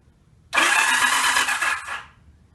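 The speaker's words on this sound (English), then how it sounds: "we're going to see if we can actuate the starter switch" Starter motor on a Yamaha XS750 motorcycle cranking for about a second and a half, a close whirring grind that starts abruptly and winds down without the engine firing.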